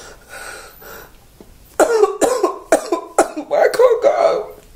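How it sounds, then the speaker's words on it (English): A run of harsh, close coughs, about six bursts in quick succession after a quiet stretch of low background noise. "My cough is not getting any better."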